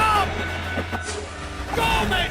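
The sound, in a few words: train in Call of Duty: Black Ops video game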